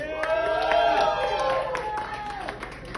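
A stand-up comedy club audience cheers and applauds loudly, with dense clapping and whoops that swell and then ease over a few seconds.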